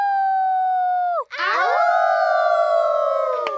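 Peppa Pig cartoon characters at a Halloween party imitate wolves with their voices: one long, sustained howl breaks off, then several voices join in overlapping, sliding howls that hold loudly to the end.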